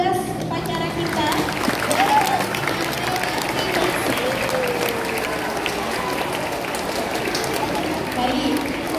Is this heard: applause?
yes